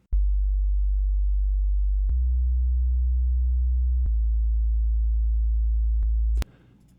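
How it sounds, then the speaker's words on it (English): A soloed pure sine-wave bass line in a music production, steady low tones changing pitch every two seconds, loud and alone with no other instruments, ending abruptly near the end. "This is just a simple sine wave."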